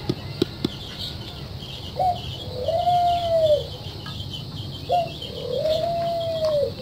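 Young spotted doves coo twice in clear, rising-then-steady calls a few seconds apart, close by over a faint rustling background during feeding.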